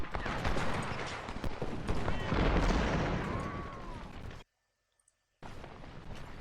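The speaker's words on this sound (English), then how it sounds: "I thought I heard some cannon going off" Cannon fire and musketry in the Civil War strategy video game Ultimate General: Civil War: dense rumbling booms and crackling volleys roll continuously for about four seconds, drop to a second of silence, then resume.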